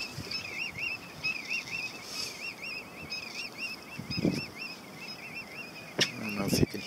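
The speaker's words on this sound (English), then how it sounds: "I don't know if you can hear the birds." Birds call over the marshes near Hog Island on the Virginia barrier islands, repeated chirping notes at a distance under steady wind and background noise, with a few louder knocks near the end.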